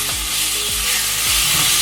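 Tomato sauce being stirred into a hot pan of creamy chicken enchilada filling, a loud, steady sizzle and hiss with repeated swooshing scrapes of the spoon through the mix, heard alone.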